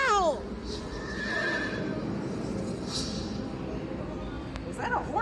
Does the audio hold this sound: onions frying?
no